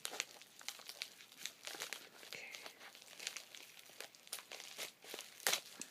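Close crinkling and rustling of WWE toy packaging being cut open with scissors and pulled apart, with irregular snips and tearing bursts, no voices.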